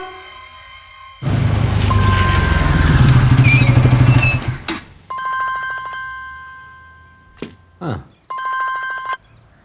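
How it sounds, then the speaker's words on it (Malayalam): After a loud rumbling engine-like noise fades, a phone ringtone sounds in short repeated bursts, fairly close and clear, in a movie scene. "ഫോൺ എടുക്കണ"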